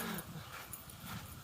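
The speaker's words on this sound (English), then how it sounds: "Cool little dog just walked by." A small dog passing by on a street gives a brief, faint whimpering yip at the start, followed by quiet rustling and background noise.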